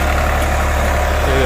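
A New Holland 3630 Plus 4x4 tractor pulling a sugarcane planter runs with a loud, continuous low engine rumble that holds steady and close throughout.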